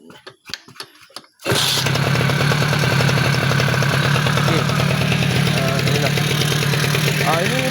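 A Suzuki V100 scooter engine with its original carburetor and Pilot 100 main jet cranks and catches, then settles into a steady, loud, buzzy idle that runs on without a break after a few brief clicks and knocks.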